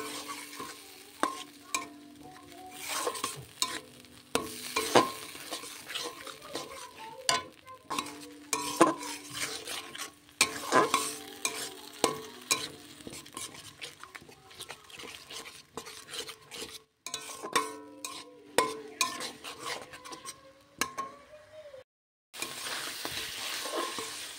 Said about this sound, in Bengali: এবারে মশলাটাকে বেশ ভালো করে কষাতে হবে